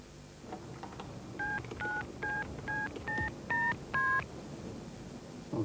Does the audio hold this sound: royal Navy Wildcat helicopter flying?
no